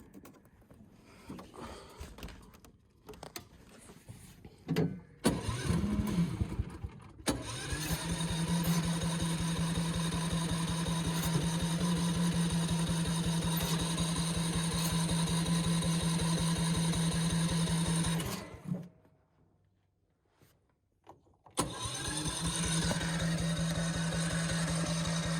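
Small go-kart engine on a Yerf Dog Rover is pulled over and sputters, then catches and runs at a steady idle for about ten seconds. It cuts out and is started again near the end. Close and fairly loud, with no talk.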